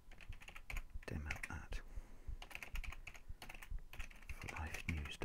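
A computer keyboard clatters as an SMTP command is typed at a command prompt, in busy bursts of close keystrokes with short gaps. A voice talks over the typing.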